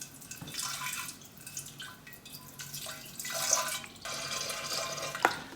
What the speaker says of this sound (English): I'm going to pour it down this side.